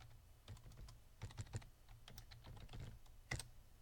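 Password typed on a computer keyboard: quiet, irregular clusters of key taps with a sharper stroke near the end like an enter press, close and faint, with no talking.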